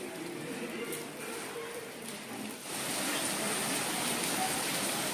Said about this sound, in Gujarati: ફાસ્ટ વરસાદ શરૂ થઈ ગયો